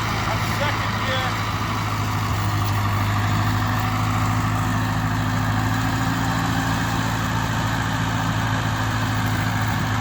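A 1942 Ford 9N tractor engine running in gear with an out-of-adjustment carburetor, a steady low, droning hum throughout while people talk nearby.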